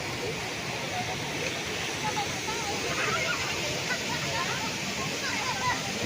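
Bunga Falls, a twin waterfall in Nagcarlan, Laguna, pours as a constant broadband roar, steady and enveloping, with faint bird chirps and distant voices barely rising above the rushing water.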